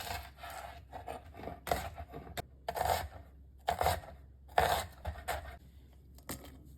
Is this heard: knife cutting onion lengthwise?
yes